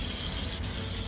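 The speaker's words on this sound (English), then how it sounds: "And then I'm going to spray this down" Disinfectant sprayed from a bottle onto a cassette toilet in a camper van, a short, bright hissing spray with a brief gap partway, close and loud, no voices.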